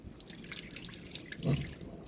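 Chicken feet being washed in a bowl of water, soft sloshing and dripping with a brief louder splash midway, close and quiet.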